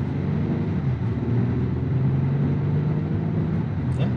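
An SUV in sport mode, either a 2021 Genesis GV80 or a 2022 Acura MDX SH-AWD A-Spec, accelerates with a steady low engine drone and a rising pitch as revs climb, heard from inside the cabin, with no talking.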